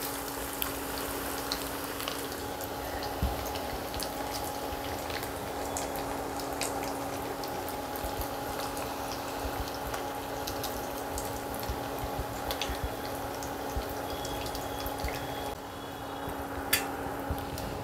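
Paneer papad rolls frying in oil, giving a steady low sizzle and bubbling with occasional faint clicks, heard close and continuous with no talk.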